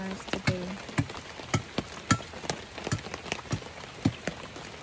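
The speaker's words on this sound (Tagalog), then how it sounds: "So ulan." Steady rain falls on a farm during an improvised catch basin project, a continuous broadband patter with close drips and splashes striking a surface at irregular intervals, no talk.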